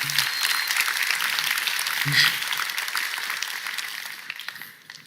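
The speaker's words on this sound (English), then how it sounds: "If everybody could please join me in giving him a round of applause." A launch event audience for the Xiaomi 13T series phones applauds in a dense, steady wash of clapping that holds strong, then thins and fades near the end, with a faint voice briefly under it.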